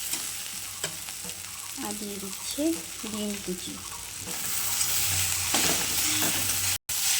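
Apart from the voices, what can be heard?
pasta frying and being stirred in a pan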